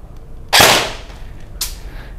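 Two sharp single shots from an airsoft gun set to semi-auto, one loud crack followed about a second later by a fainter second snap, with a quiet background between.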